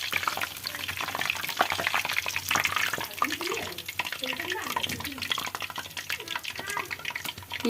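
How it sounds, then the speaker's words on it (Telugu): Food fries in a hot pan at a home kitchen, a busy crackling sizzle with sharp spatters and scraping stirs, and a voice speaking faintly underneath. "ఈ కలర్లో వేయించుకోవాలి."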